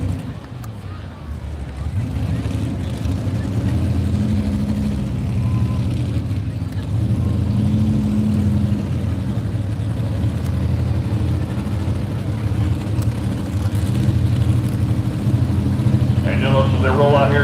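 A naturally aspirated Super Stock 4x4 pulling truck, the 6,200-pound Obsessed truck from Sidney, Montana, roars steadily at an evening pull in Anoka, a loud sustained low engine drone with wind buffeting and a crowd or announcer faintly beneath.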